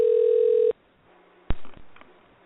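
A steady phone tone sounds for under a second on a conference call line while callers are added, then cuts off into quiet before a sharp click and brief line noises.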